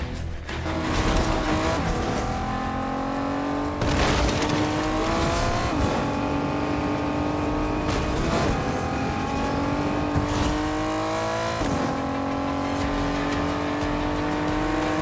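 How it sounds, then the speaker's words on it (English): A V6 car engine in Fortnite revs and drones continuously, pitch rising through gears and dropping at shifts, loud and up close with occasional tire squeal. "The engine sounds like a V6, like definitely sounds a lot like a V6."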